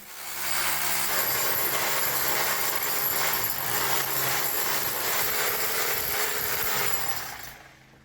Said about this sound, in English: First, using one of the chisel hammers to clear joints between the stones.